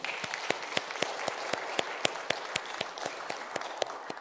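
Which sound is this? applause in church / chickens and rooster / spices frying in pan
applause in church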